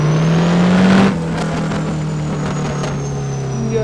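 A Chevy S10 truck with a 5.9 engine revs on a dyno in the racing game No Limit 2, a loud sustained engine drone that holds high for a second and then drops to a steady lower hum.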